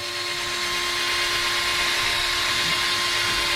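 Power drill spinning a wire brush against rust on the turbocharger of a 2007 Freightliner Columbia truck, a loud, continuous whining scrub with a steady high motor tone, close and uninterrupted.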